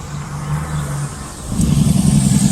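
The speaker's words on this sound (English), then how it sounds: "a lot of big truck traffic coming through town" Road traffic passing through a small mountain town's downtown, including big trucks: a steady vehicle hum that swells into a louder, rumbling pass by the second half, fairly close, with no talk.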